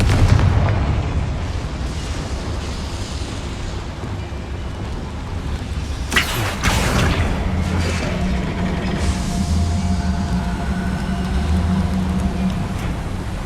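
The Confringo blasting curse from Hogwarts Legacy sets off a sharp explosive burst over a dense rumbling game soundscape, followed by lingering crackle and low booming.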